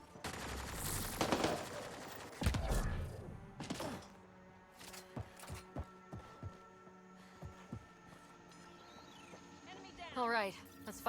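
Scattered gunshots in Mass Effect Andromeda combat, a heavy burst early on followed by sparse, irregular shots and thuds, mixed with game effects and a voice talking.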